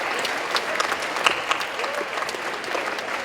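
A school assembly crowd claps steadily in a dense burst of applause, close and sustained throughout.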